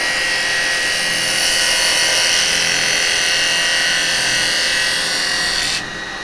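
Continuous close hiss and rasp of a woodturning gouge cutting wood on a spinning lathe, bevel riding for a steady controlled cut that carries on without a break and eases slightly at the end.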